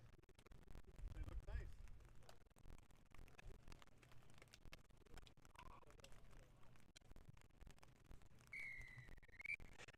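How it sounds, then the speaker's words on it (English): A rugby referee's whistle gives a short shrill blast near the end of the clip, faint and distant, over a steady hiss of rain and muffled background noise. "As the referee gives his whistle"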